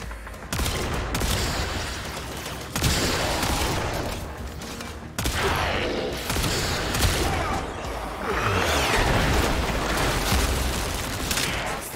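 Dense, continuous automatic gunfire and explosions from enemies in the video game Warframe during an endless Corpus excavation fissure mission, loud and unbroken, with rapid overlapping bursts and booms filling the whole stretch.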